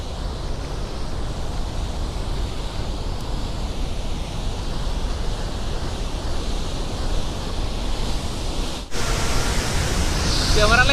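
Water pouring over Nizam Sagar dam in Telangana makes a constant broadband rushing roar, steady and full throughout, with the tone shifting abruptly near the end.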